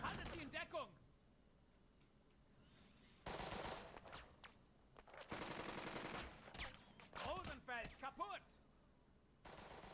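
Gunfire in the war video game Burden of Command: repeated bursts of machine-gun and rifle fire in separate loud volleys with quieter gaps between them, close and dominant.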